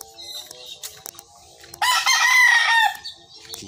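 A rooster at a small backyard poultry yard in the Philippines lets out one loud, close crow lasting about a second, preceded by softer clucks and scattered bird and farm noises.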